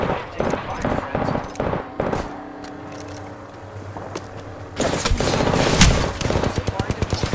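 Rapid automatic gunfire in the shooter game Apex Legends, with dense bursts of shots that grow louder and more continuous in the second half over a low game ambience, with a voice speaking near the start.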